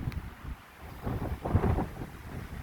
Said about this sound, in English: the wind's gusting probably 30, 35 miles an hour right now